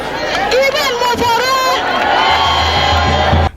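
A large, enthusiastic crowd of supporters cheers and whoops at a governorship campaign rally, with shouting voices rising and falling loudly for a few seconds and a low drumming thump underneath toward the end.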